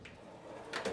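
A toolbox drawer in a large wall-mounted tool chest slides open with a short scraping rush near the end, following a faint earlier rattle.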